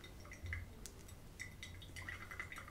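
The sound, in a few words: water poured from kettle into Hario V60 coffee dripper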